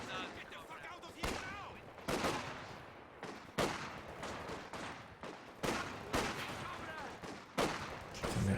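Infantry gunfire in Company of Heroes 2 as conscripts engage, with repeated sharp bursts of shots every second or so over a dense battle din, with faint voices underneath.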